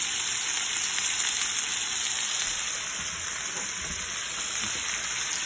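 A chopped shallot frying in a hot pan for shrimp scampi, giving a steady, loud, even sizzle that holds unbroken throughout with no voices.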